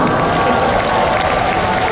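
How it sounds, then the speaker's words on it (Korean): A large crowd applauds at a Korean conference event, a dense, continuous clapping roar with some cheering that stays loud and level throughout. "박수 한번 주시고."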